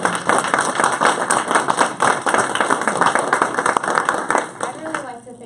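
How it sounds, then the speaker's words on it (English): A round of applause at a Town of Platteville public gathering: dense, steady clapping from a crowd fills the whole stretch at a fairly loud level, with scattered voices underneath, thinning slightly near the end. "could we have a round of applause"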